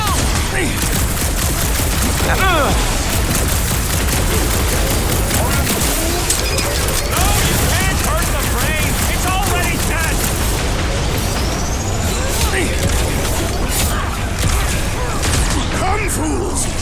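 Dense, chaotic gunfire from guns in the Marvel's Guardians of the Galaxy game blends with booms and crackling effects in a loud, continuous battle din, while voices talk over the action.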